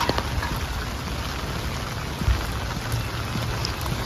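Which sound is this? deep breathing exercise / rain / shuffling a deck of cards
rain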